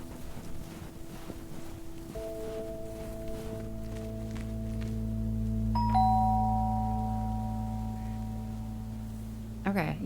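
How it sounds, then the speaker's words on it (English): An electronic doorbell chime in the game Lake: Season's Greetings rings out in sustained, layered tones over a quiet ambient backdrop, ending with a short bright burst. "let's go ring the doorbell"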